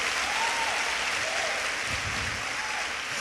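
A church congregation clapping together, a full sustained wash of applause from a large crowd heard at moderate distance, steady throughout with a faint voice drifting over it.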